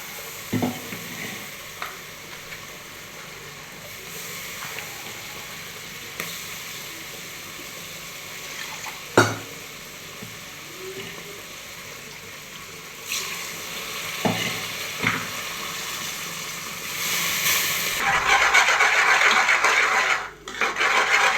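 Ground ginger-garlic masala frying and being stirred in a pan for home-style Dindigul mutton biryani, a steady sizzle with scattered sharp scrapes and clinks of the spoon, the frying swelling louder near the end.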